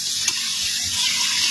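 Frog soup made with field frogs boiling in a pot, a steady bubbling, sizzling hiss that stays close and constant, with one small clink near the start and no talking.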